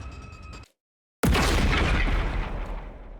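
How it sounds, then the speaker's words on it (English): A bomb explosion in the video game The Hundred Line: Last Defense, a sudden loud booming blast after a brief silence that fills the space with a long roaring, crackling rumble as it slowly fades. "A short, sharp explosion suddenly rang out around us."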